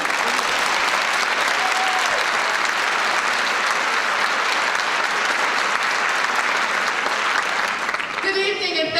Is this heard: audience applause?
yes